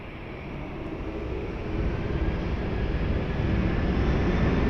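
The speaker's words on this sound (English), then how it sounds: "runway 20, cleared for takeoff" A plane taking off on runway 20 at Lisbon Airport makes a loud, broad engine roar that swells gradually as the aircraft accelerates, with no voices.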